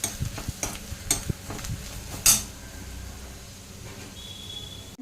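Kashmiri red chilli powder being sautéed for chicken sukka, with a spoon stirring and scraping the pan in soft irregular strokes and occasional sharp clinks over a low, steady sizzle.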